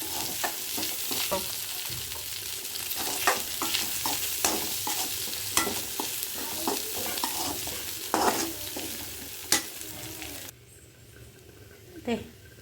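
Food is stirred in leftover fish-frying oil, a soft sizzle running throughout with repeated scraping clicks of the spoon against the pan, close and fairly quiet, easing off near the end.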